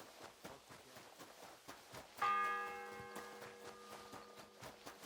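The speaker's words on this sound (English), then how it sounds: "The first bell." A church bell tolls once in the medieval video game Kingdom Come: Deliverance 2, its rich ringing tone swelling and decaying over several seconds while steady footsteps crunch along underneath.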